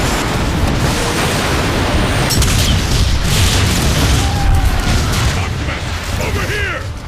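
An artillery strike from Transformers: Fall of Cybertron erupts in loud, rolling booms, a sustained barrage of explosions and rumbling debris lasting several seconds, with speech over part of it.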